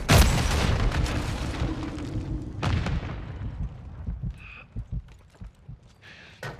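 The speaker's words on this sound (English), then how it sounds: "Throwing stun grenade. Frag out. Incoming." Grenade blasts in the Call of Duty Modern Warfare 3 video game: a loud close boom, a second heavy explosion, then rumbling debris and scattered gunfire pops fading out.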